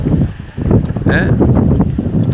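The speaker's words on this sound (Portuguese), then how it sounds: "Fazendo esse passeio aqui, maravilhoso, ventando muito." Strong gusty wind at Lagoa do Cassó rumbles and buffets the microphone, with a person briefly speaking over the blustery noise.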